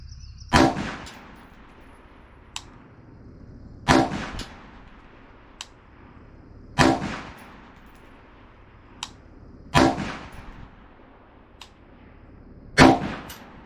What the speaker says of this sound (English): I can load the rifle, take my angle to the target